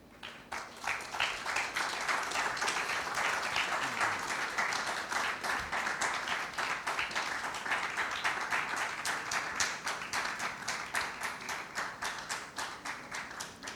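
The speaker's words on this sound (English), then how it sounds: "Thank you very much for the applause" Audience applause after a talk on an AI-enabled tactical air defence system, dense steady clapping from a large crowd lasting throughout, sustained and even with no voices over it.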